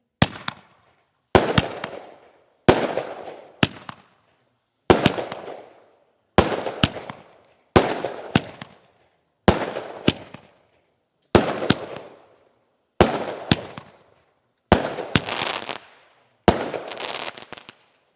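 Fireworks explode in a steady series, about a dozen loud booming bursts, each followed by a fading crackle, evenly spaced over a long stretch, at a Fourth of July display.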